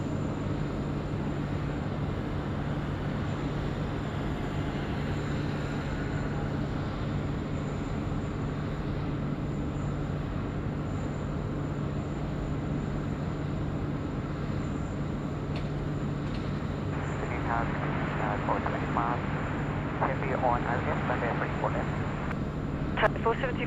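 A Qantas airliner, the big Q, on approach at Sydney Airport at night, a steady distant jet roar sustained throughout under a constant low drone, with brief faint higher chatter near the end.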